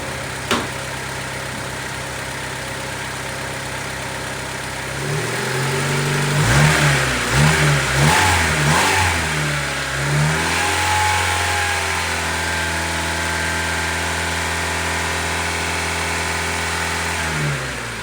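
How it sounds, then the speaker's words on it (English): A 1996–2000 Honda Civic engine idling steadily, then revved several times in quick blips before settling back to a smooth idle, close and clear with no talking. "So I'm gonna hop in and give it a little bit of RPM"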